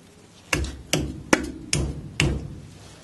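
A grease cap is tapped onto the front wheel hub of a 1275 MG Midget fitted with taper roller bearings: five sharp, evenly spaced metallic knocks, close and fairly quiet, with short decays between them.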